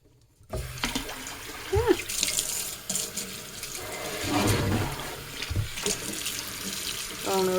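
Tap water runs steadily into a sink to rinse freshly dyed doll hair, a continuous close splashing stream with brief clinks and shifts in flow, no talking.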